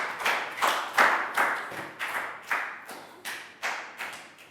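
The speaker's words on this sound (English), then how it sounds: "High five and big round of applause for Pat." Year 3 science class gives a round of applause in a classroom: about a dozen sharp, distinct hand claps in a steady, slightly uneven rhythm, fairly close and moderately loud, with no talking over them.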